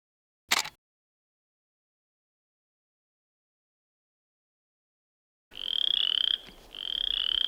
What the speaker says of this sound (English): Frog's so loud.